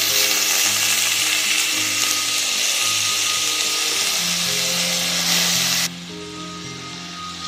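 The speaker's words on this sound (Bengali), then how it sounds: "হাই ফ্লেমে একটু ভেজে নেব।" Soaked rice and lentils frying in oil in a wok over high flame, a loud, close, continuous sizzle that drops abruptly near the end, with a low hum beneath.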